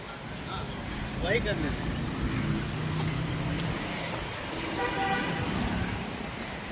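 Car horns toot repeatedly over a steady roar of dense road traffic on a crowded street lined with cars as far as the eye can see, with voices murmuring nearby.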